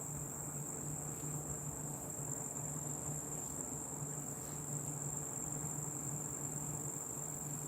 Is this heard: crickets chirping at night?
yes